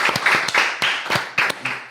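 Studio audience on a Brazilian podcast set claps in short uneven bursts for about two seconds, loud and close, with no talk over it.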